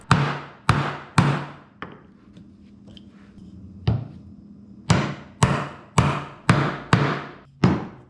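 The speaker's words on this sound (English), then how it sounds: "I just chop down to the baseline using a chisel" Sharp, loud chisel strikes chopping dovetail waste out of a wooden board on a workbench, a run of three or four evenly spaced blows, a pause with quiet scraping, then six more rhythmic hits.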